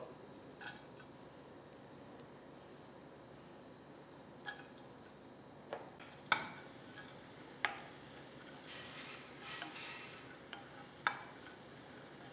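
Finely chopped carrots are sautéed lightly without oil, giving a faint, soft, steady stir with occasional sharp ticks of a utensil tapping the pan, and no talking.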